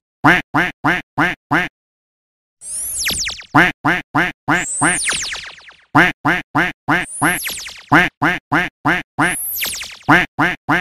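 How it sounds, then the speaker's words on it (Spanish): A cartoon-style duck quacks in a children's learning clip about ducks and eggs, giving rapid, evenly spaced bursts of quacks broken by a few loud descending whistle-like sweeps, all close and prominent. "Pato."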